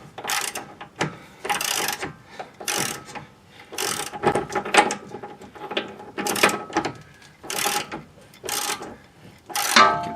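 A ratchet wrench cinches up a toe link on a 2011 Ford Edge, with repeated bursts of rapid clicking in an uneven back-and-forth rhythm, close and distinct, about a dozen strokes.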